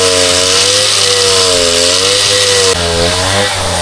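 Chainsaw cutting through wood, a loud close high-pitched whine that holds steady and shifts pitch slightly as the blade bites, with no voices.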